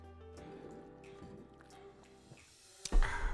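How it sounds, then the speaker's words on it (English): A person takes a drink of water in a home office setting, with soft liquid drips and gulping sounds close to the microphone, ending in a louder burst of movement near the end. "Let me just take one last drink of water here."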